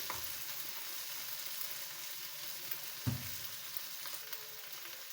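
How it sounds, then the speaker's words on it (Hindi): Okra (bhindi) fries over medium heat in oil with a soft, even sizzle, quiet and continuous, broken once by a single stir or knock in the pan, with no one speaking. "ये भिंडियाँ फ्राई हो गई"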